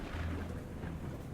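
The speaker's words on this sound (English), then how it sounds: "The lightning struck directly into this tree." Thunder from a lightning strike hitting a tree in the video game Cleo: A Pirate's Tale, a steady low rumble that rolls on for about a second and a half without pause, deep and fairly loud, with no voices over it.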